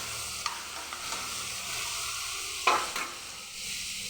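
Soybean chunks fry with a chili and turmeric spice paste, giving a constant close sizzle broken by a few scraping stirs, one louder clatter near the middle, and no talking.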